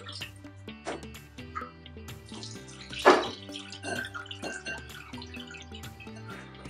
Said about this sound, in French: on met de l'eau